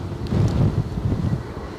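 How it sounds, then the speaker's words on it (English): Gusty wind at Edinburgh Airport buffets the microphone in heavy low rumbling surges that swell and ease over the short stretch, with no speech. "Hear that wind whipper?"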